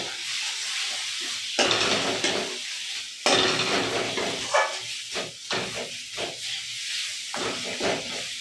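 Chili, cumin and turmeric powders sizzle in hot oil in a frying pan while being stirred for a Bengali mustard pomfret curry; steady close frying hiss with scraping stir strokes and a few louder bursts, no talking.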